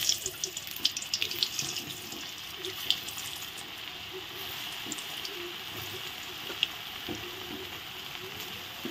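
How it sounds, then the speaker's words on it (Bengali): Raw green banana koftas for a vegetarian dish sputter in hot oil as they are dropped in one by one, making a continuous hiss with scattered sharp pops and crackles at close range. "আমি এখন কোপ্তাগুলো ভেজে নেব"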